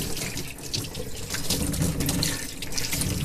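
A 1985 Paiste Formula 602 Blue Label hi-hat cymbal is rinsed under a running tap, a steady close rush and splatter of water breaking over the metal, with no talk.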